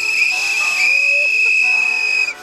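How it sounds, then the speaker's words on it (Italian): At an eighteenth-birthday conscripts' celebration in Tesero, people whistle loudly, holding a shrill, sustained piercing pitch for about two seconds before it cuts off. "Dai, fischiate"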